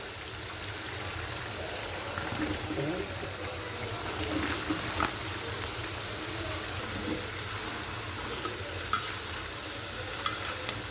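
Potatoes and eggplant stirred into a frying spice paste for a dried loitta fish curry, with a continuous low sizzle and soft stirring scrapes, plus a few sharp clinks near the end.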